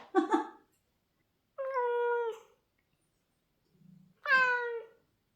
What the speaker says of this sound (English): Cats, honestly.